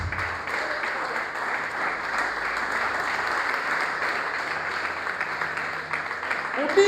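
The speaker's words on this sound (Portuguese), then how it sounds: "Aplausos ao nosso Senhor" A church congregation at a Sunday worship service applauds in a steady, dense wash of clapping that holds evenly for several seconds, moderately loud and spread across the room.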